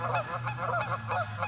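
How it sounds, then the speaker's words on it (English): Migrating geese honk repeatedly in a steady, fairly distant series of calls over a low background hum. "These geese right here are traveling great, great distances."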